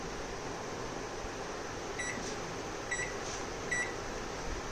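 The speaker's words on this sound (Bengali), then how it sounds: "আমি এটা বাসনটা মাইক্রোওয়েভের ভেতরে করে দিয়েছি। এবারে ঢাকনাটা বন্ধ করে দিলাম। এবারে চলো পাওয়ারটা দিয়ে দিই।" A microwave oven heats a dish of stuffed bitter gourd with a steady low hum and fan drone, a few faint beeps rising over the even noise.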